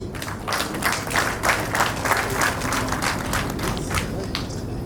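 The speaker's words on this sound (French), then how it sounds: "Merci de l'applaudir encore chaleureusement, s'il vous plaît." Audience at a ceremony for a key handover and league cup trophy presentation applauds warmly, dense steady clapping from a crowd, fairly loud and sustained, with some voices mixed in.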